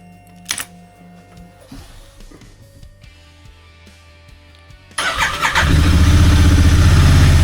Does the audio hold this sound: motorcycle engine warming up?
yes